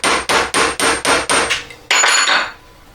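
A stainless steel baguette ring's shank is tapped up with a hammer: six evenly spaced, sharp metallic strikes close by, then a longer, brighter ringing impact that fades.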